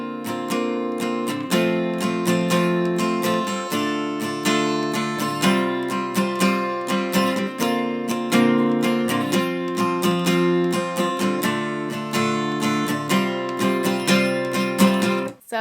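An acoustic guitar strums the chords of a song in a steady down-and-up pattern, close and bright, with regular chord changes and no talking.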